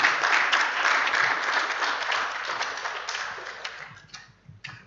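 An audience at a Software Freedom Day 2021 event applauds the chairman, a dense, steady round of clapping that fades out toward the end.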